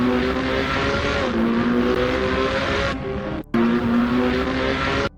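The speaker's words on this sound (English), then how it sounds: "high-speed cinematic race car scene. A red modern sport car driving on a professional racetrack" An AI-generated red modern sports car races on a professional racetrack in daytime, its engine roaring loud and close with sustained high revs, briefly dropping away twice before surging back.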